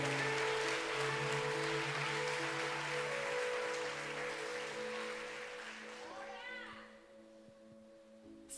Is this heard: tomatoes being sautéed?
no